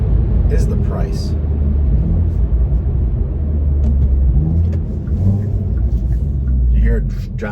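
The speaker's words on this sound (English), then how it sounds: "You hear it downshifting and blipping through the gears?" A 2021 Hyundai Veloster N engine drones loudly and steadily, downshifting and blipping through the gears, with a deep continuous rumble and road noise that swells slightly in places.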